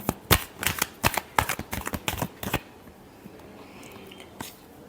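Tarot cards being shuffled by hand, a quick run of crisp, close riffling flicks for a few seconds before stopping, leaving quiet room tone.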